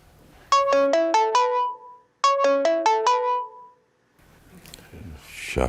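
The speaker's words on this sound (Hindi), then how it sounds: "शाफिन मियाँ फ़ोन ही अटेंड नहीं कर रहे।" A mobile phone ringtone plays two loud bursts of a rising melodic chime pattern, separated by a short gap, before quieter indistinct sounds follow.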